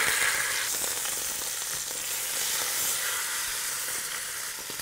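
A lamb shoulder sears in a casserole pot over high heat, a continuous loud sizzle and hiss of hot fat with small crackles, steady with no voices.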